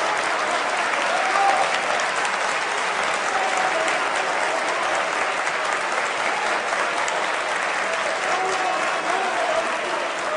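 Sustained standing applause from a parliamentary audience, many hands clapping densely and steadily at close range for the full stretch with no pause.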